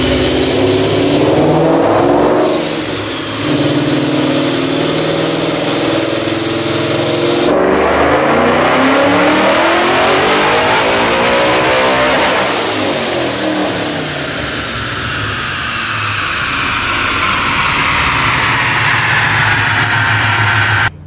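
A supercharged 2017 Ford Mustang GT with a Coyote engine and Paxton 2200SL blower makes a loud, close dyno pull, revving up with a rising supercharger whine, dropping back, then climbing hard again before easing off.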